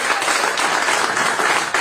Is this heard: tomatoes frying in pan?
no